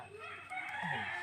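Chickens cluck and crow close by at an outdoor communal rice-cooking gathering in Indonesia, with faint voices in the background.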